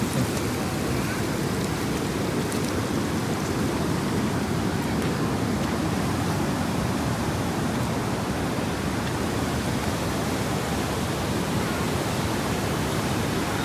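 Water rushes over a check dam in a constant, dense roar, loud and close, with no voices or breaks.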